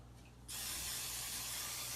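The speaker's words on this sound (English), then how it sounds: "I'm going to go ahead and add just a little teeny bit of an olive oil spray to it" An olive oil cooking spray bursts on after a brief quiet moment and keeps up a continuous, even hiss as it coats food in a low carb spaghetti recipe, fairly soft and close.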